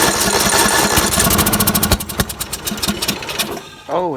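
Troy-Bilt riding mower engine cranks in a fast, loud mechanical chatter, then fires and sputters with uneven pops before fading, close up.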